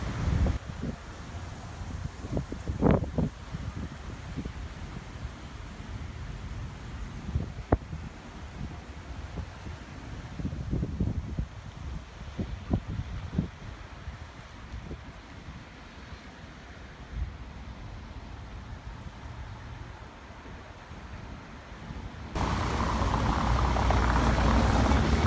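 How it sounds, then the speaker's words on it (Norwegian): Strong outdoor wind buffets the microphone in Stavanger, a steady roaring rush with occasional thumps and gusts that grow louder toward the end, with no voices. "men det blåste kraftig, så det blir jo dessverre litt vindsus"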